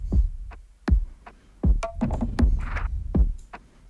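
Distorted synthesizer noise thumps in heavy, irregular low hits with gritty buzzing tails and a brief noisy swell in the middle, loud and close.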